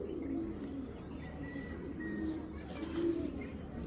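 Belgian and German breed pigeons coo softly and repeatedly nearby, low throaty calls rising and falling over a quiet background.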